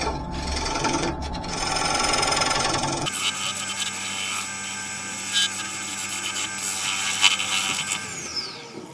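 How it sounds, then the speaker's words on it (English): Parting tool cutting a cherry wood bowl on a lathe, a loud continuous rasping scrape that shifts abruptly to a smoother steady hiss with a constant motor hum underneath. "I'm just using the parting tool now just to mark out where I want the top of the bowl to be."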